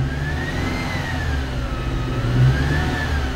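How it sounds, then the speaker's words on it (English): A car engine idling then revving lightly as the throttle is pressed, a steady mid-pitched drone that swells slightly in pitch and loudness, heard close with no talking. "If I just give a bit of gas"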